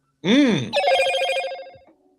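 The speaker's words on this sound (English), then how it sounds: "Whose phone is that?" A telephone rings nearby with a loud, bright electronic ringtone: a warbling burst followed by a steady tonal ring lasting about a second and a half before it cuts off.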